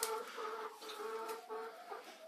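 Hens in a freshly cleaned chicken coop with new hay, laying eggs, give off steady overlapping clucks and soft murmuring calls throughout, close by and continuous with no talking.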